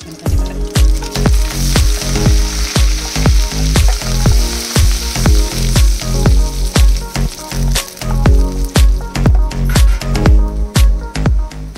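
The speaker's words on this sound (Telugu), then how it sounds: "ఆయిల్ వేడెక్కిన తర్వాత వెల్లుల్లి, ఎండుమిర్చి, జీలకర్ర, కరివేపాకు వేసుకుని అవి వేగిన తర్వాత" Garlic, dried red chillies, cumin and curry leaves crackling in hot oil for a tempering, a loud, steady sizzle full of rapid sharp pops throughout, with no voices.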